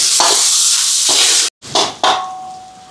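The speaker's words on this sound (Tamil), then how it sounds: "எண்ணெய் சூடாயிட்டு கருவேப்பில் பச்சை மிளகாய் வெங்காயம் இப்போ இதெல்லாம் வதங்கட்டும்" Curry leaves, green chilli and onion hit hot oil in a pan with a loud, bright sizzle that cuts out briefly, then returns in two fresh bursts that fade.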